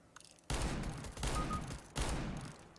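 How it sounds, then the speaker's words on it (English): Gunfire in CS:GO from a player shooting at the ground: three rapid bursts of sharp shots, each bursting loud and tailing off, with a faint click before the first. "he's just looking at the ground and shooting in the ground"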